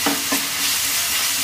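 Egg fried rice being stirred and fried in a pan, a loud close sizzle with scraping stir strokes near the start, continuing without talk.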